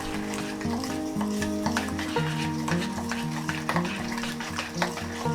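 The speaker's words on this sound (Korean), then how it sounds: "덩어리 지지 않도록 굵게 반죽을 합니다" A spoon or whisk stirs thick flour batter for an aged kimchi pancake in a bowl, giving continuous scraping, sloshing strokes with a few light clinks against the bowl. No one speaks.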